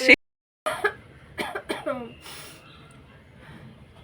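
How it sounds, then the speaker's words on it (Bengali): A person gives one sharp, loud cough indoors at the very start, followed after a short pause by close-up talk and a soft chuckle. "কাশি হচ্ছিল"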